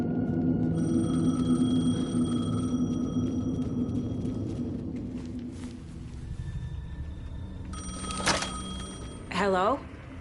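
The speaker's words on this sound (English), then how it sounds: "The payphone was ringing." Payphone ringing in the video game Alan Wake 2, with a steady repeating electronic ring over low ambient game drone, followed by a brief clatter and a short burst of higher chirping tones near the end.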